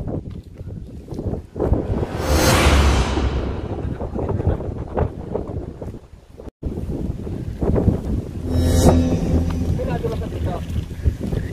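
Strong gusting wind on a hilltop in Bulacan, Philippines, buffets the microphone, a loud broadband roar rising and falling, with voices speaking intermittently over it.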